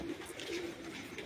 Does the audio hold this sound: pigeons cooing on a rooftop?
yes